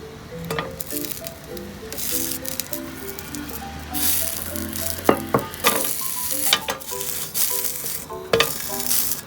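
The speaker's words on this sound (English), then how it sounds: "grill the sausage" Sausage for Swedish hot dogs sizzles and crackles steadily in a hot frying pan without oil, with occasional clinks and scraping of a utensil stirring, close by.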